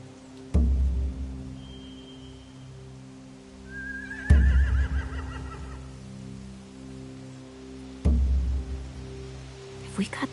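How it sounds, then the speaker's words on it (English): Horses in a PS4 video game whinny amid low steady game ambience, with three heavy thuds spaced a few seconds apart and a shrill neigh rising clearly in the middle. "Scare the horses, too."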